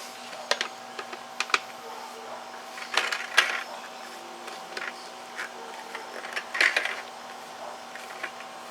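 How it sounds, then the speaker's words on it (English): A leak-tight plastic lid is pressed down onto a Lowe's Encore plastic bucket, making a scattered series of small clicks, snaps and creaks, close and fairly quiet, over a low background hum. "next I'm going to put this leak-tight lid from Home Depot and on the actual Lowe's bucket"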